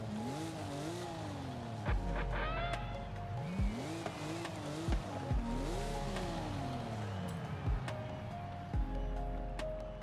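Porsche 911 Turbo engine revving and shifting through gears in a Forza Horizon 5 race, with repeated rises and drops in pitch, bursts of tire squeal, and a steady loud drone throughout.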